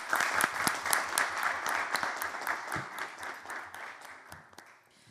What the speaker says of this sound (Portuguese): nosso muito obrigado mais uma vez e uma salva de palmas